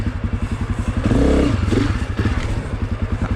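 Honda CRF250F four-stroke dirt bike chugs through a pivot turn, its engine pulsing close and steady, briefly revving in the middle before settling back to a thumping idle-like beat.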